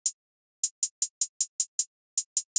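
A simple hi-hat pattern from the Slat drum kit is programmed in FL Studio: crisp, bright ticks, one at the start and then two evenly spaced runs of repeated hits separated by a short gap, with nothing else playing.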